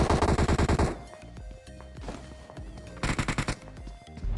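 Rapid bursts of automatic gunfire in a video game, loud and close, with a dense volley at the start, scattered quieter shots in the middle and another hard burst near the end.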